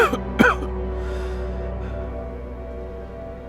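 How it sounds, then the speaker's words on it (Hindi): Two short, sharp coughs near the start from a man who has been coughing a lot lately, then a steady low hum and room tone with no talk. "आजकल तुम कुछ ज्यादा ही खांस रहे हो"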